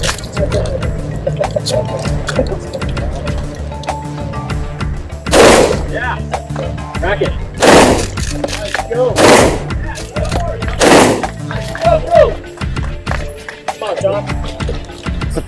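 Rifle shots at a long-distance shooting competition, four loud sharp reports spaced a second or two apart over steady outdoor background, with people talking now and then.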